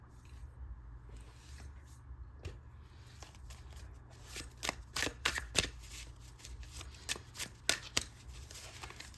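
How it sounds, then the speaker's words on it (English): Tarot cards being shuffled at close range, first a quiet rustle and then a run of crisp, snappy riffling bursts in the second half, with no talking. "let me go ahead and draw your other tarot cards."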